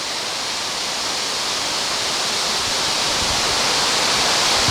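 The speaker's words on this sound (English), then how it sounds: "But it's a nice waterfall." A constant roaring rush of a waterfall near Dildo, Newfoundland, Canada, loud and unbroken, with no voices over it.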